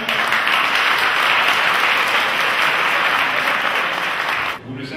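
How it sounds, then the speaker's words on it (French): Audience applause at a Guinean presidential election campaign event held by the RPG-Arc-en-ciel Morocco section, a dense steady roar of many hands clapping that stops abruptly near the end. "je vous en prie d'applaudir Mme Sidibé Halima Samara"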